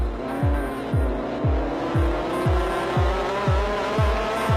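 Formula Ford race cars in the Australian Formula Ford Series scream past in quick succession, a stream of rising engine notes with a sharp thump as each one passes close by. Roughly nine cars go by in a steady rhythm.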